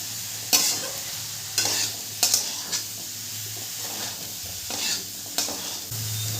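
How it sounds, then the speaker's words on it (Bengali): Boiled chickpeas are sautéed with spices in a pan over a continuous low sizzle, with sharp scraping and clinking strokes of a spoon against the pan coming every second or so. "প্রথমে ছোলাটাকে দিয়ে একটু মশলার সাথে কষিয়ে নেব।"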